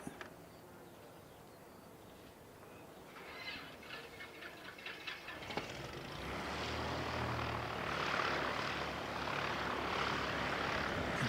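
A Jetstar airliner's engines spool up at an airport, a faint whine and hum swelling into a steady louder roar, heard from a distance with no talking.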